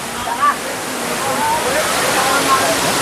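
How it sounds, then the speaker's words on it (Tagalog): Dream Falls waterfall in Luisiana, Laguna, a steady broadband roar of falling water that fills the whole clip, with voices partly audible over it. "Dito na tayo sa Dream Falls ng Luisiana, Laguna"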